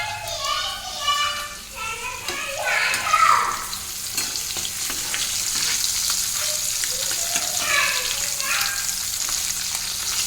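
Katla fish frying in hot oil, giving a loud, steady sizzling hiss that fills the whole stretch, close by, while people talk over it and children's voices are heard faintly.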